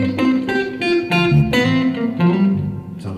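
Clean electric guitar through a patch voiced like a Fender Twin Reverb amp, played in a church guitar workshop, with several strummed chords and picked notes ringing with bright harmonics across a few seconds, steady and close, no talking.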